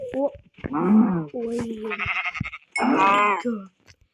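Several sheep bleats in Minecraft hardcore mode, loud and close, some overlapping with a person talking.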